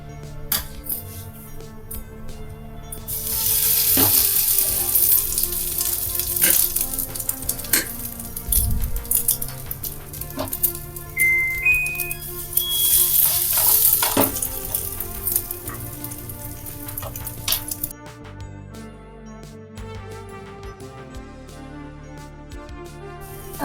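Egg-battered bread slices frying one by one in hot oil in a pan, a steady loud sizzle with occasional utensil taps, dropping off near the end.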